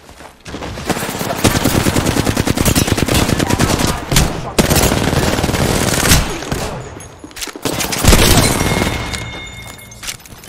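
Loud, close automatic gunfire from a video game firefight comes in long rapid bursts, separated by brief pauses and sharp single shots, with a tonal electronic beep near the end.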